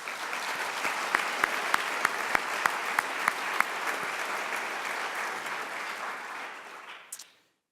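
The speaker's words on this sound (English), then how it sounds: "Please all join me in giving them a round of applause." An indoor audience applauds sponsors at an evening event, sustained dense clapping with several sharp claps standing out, then dying away at the end.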